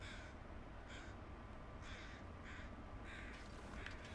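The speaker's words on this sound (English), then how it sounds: "Do like the atmospheric crows." Crows caw repeatedly in The Long Dark, a series of harsh calls in short bursts spaced across a few seconds, set against a steady low outdoor ambience with no talk.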